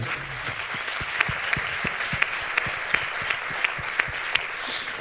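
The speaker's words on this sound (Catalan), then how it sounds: "Anem amb un aplaudiment." Audience applause during a carnival talk show, a full crowd clapping steadily with a few sharper rhythmic claps standing out, no talking over it.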